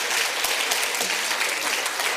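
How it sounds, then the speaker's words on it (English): Dense, sustained audience applause at a science lecture, a steady wash of many hands clapping at once, fairly loud and even from start to finish. "if you're going to start clapping for people, you might as well clap for"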